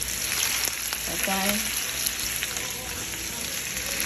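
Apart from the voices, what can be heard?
sausages frying and sizzling in pan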